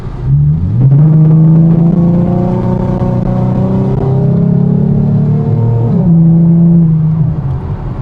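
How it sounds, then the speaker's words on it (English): A Ford Mustang fitted with an Airaid cold air intake revs loudly and close, its engine pitch climbing and holding through a long pull, then a shift-like dip before settling, deep and throaty throughout. "Sounds way more beefy. I can definitely feel it now whenever I get on the throttle."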